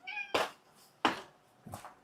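A cat gives three loud, close meows in a row, each a bright drawn-out cry spaced under a second apart, alone in a quiet room with no talking.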